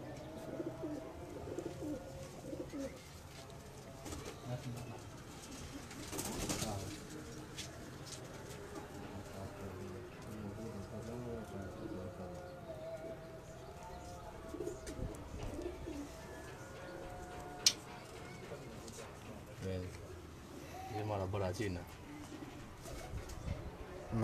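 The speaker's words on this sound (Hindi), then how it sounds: "जी दोस्तों, चीना कबूतर है ये" Cheena pigeons cooing on a rooftop, soft repeated low coos at a moderate distance with occasional chirps, over quiet ambient noise and faint voices.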